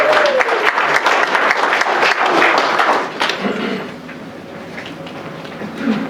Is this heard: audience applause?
yes